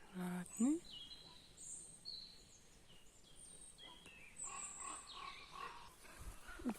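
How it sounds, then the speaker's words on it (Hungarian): Ravens call overhead in the Mecsek hills in March: faint, scattered croaks and calls drifting in from a distance amid quiet woodland, with a voice speaking. "Közben fölöttünk a hollókat lehet hallani és látni."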